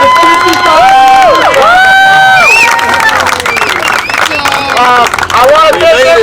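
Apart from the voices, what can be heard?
crowd applause and cheering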